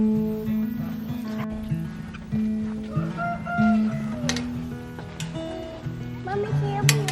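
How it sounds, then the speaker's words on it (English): Chickens in a backyard coop give faint clucks and calls under the near, continuous chatter of a family talking. "the chickens are over here in the coop."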